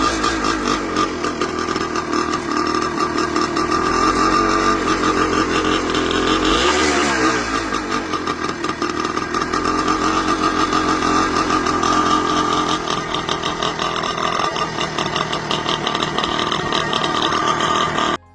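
Engine of a vintage 1970s Penton enduro motorcycle runs steadily with a buzzy, raspy two-stroke-like drone, briefly rising in a revving swell partway through before settling back, heard close and continuously.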